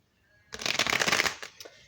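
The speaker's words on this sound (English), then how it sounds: "I'm going to go ahead and begin shuffling." Fluttering riffle of a Modern Witch Tarot deck being shuffled by hand, a short burst of close, crisp card slaps after a moment of quiet, then tapering off.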